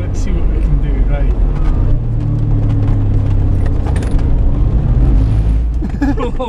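A Suzuki Cappuccino Turbo kei car is driven hard, its engine droning loudly and steadily up close while one wheel skids. Near the end a voice speaks over the engine noise.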